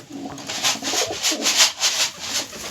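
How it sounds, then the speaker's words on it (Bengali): Pigeons coo close by in a rhythmic series of soft, throaty pulses, repeating several times in quick succession without speech. "দেখো হচ্ছে পায়রাগুলো।"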